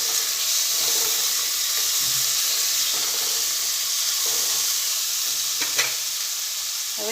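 Chopped tomato hits golden fried onions in a pan for dal fry, giving a steady loud sizzle with light stirring scrapes and no talk.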